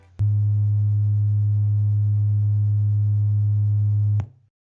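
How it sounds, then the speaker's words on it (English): A pure 110 Hz sine tone sounds loud and steady for about four seconds, starting and stopping abruptly with no other sound around it. "Say we have two pure sources of sound. One of 110 Hz."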